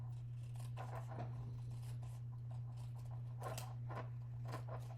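Paper snips cut through paper in a string of short, crisp snipping strokes, close and soft, over a steady low electrical hum with no talking.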